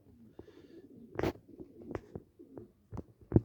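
A pigeon gives soft, low, throaty coos in short, uneven bursts, close by and fairly quiet, with brief gaps between calls.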